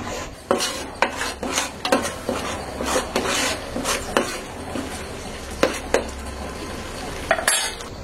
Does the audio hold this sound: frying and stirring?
yes